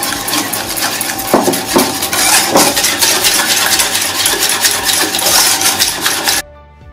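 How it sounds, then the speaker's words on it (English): Eggs are whisked into a Nutella ice cream mixture in a bowl, producing a continuous rapid scraping and rattling of metal against the bowl, loud and close. The sound cuts off abruptly near the end. "we'll add our eggs, whisking continuously"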